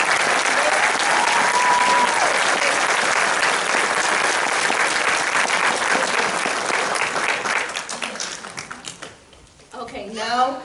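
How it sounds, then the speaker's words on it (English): An audience at the FCA awards ceremony gives a loud, sustained round of applause that tapers off near the end, followed by a voice speaking. "this lady needs a huge round of applause"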